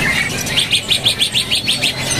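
Starlings (jalak) at a bird market kiosk give a quick run of about ten rhythmic, bright chirps close by, repeated evenly over a faint background bustle, with no talking.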